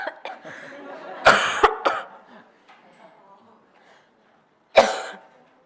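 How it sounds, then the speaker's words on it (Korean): A few sharp coughs close to the microphone, two quick ones in a burst and another a few seconds later, with quiet pauses between them. "기침 한번 하시죠."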